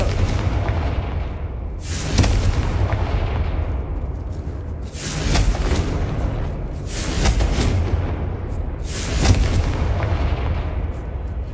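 Fire spell Confringo cast repeatedly in the video game Hogwarts Legacy, giving four loud booming blasts spaced a few seconds apart over a continuous rumbling background.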